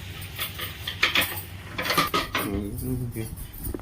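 Dishes, pots and utensils clatter and clink as they are washed in a home kitchen. The metallic knocks and jangles come in uneven bursts over running background noise, with no clear talking.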